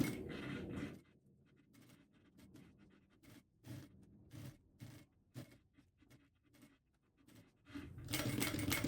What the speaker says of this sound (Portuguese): Estou começando agora de baixo para cima, usando um pezinho de máquina.